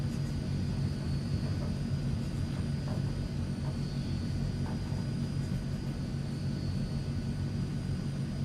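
Engines of a Transall C160 transport aircraft in Microsoft Flight Simulator, a steady low propeller-engine drone that holds level throughout, loud and continuous with no talking.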